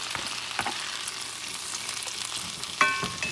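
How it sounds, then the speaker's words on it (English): Mushrooms sauté in melted butter in a pan, giving a steady, close crackling sizzle throughout, with a brief sharper clink near the end. "what you're going to do is you're going to saute the mushrooms"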